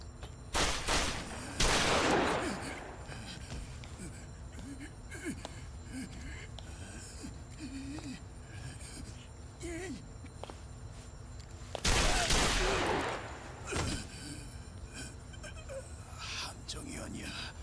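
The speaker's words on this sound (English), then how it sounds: "Gunshots." Bursts of gunfire ring out in a role-play video game, two loud volleys of rapid shots separated by quieter stretches with faint voices and movement in between.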